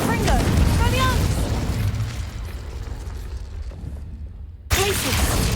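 Booming spell blasts from Hogwarts Legacy, with a loud burst at the start, a rumbling tail that fades toward silence, then a sudden fresh blast near the end, along with voice-like tones.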